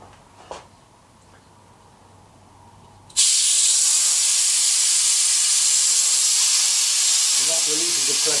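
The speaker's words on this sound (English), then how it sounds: "I can remove the pressure simply by undoing an air release valve." Air hissing out of a pressure chamber's release valve used for curing epoxy: a quiet workshop room, then a sudden loud, steady broadband hiss that continues to the end, close up.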